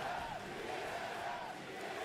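A stadium crowd at the ALGS Apex Legends final roars in a sustained, dense wall of cheering and shouting, steady and enveloping for the whole moment.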